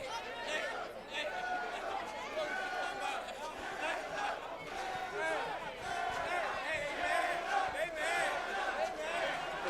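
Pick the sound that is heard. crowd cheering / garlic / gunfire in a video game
crowd cheering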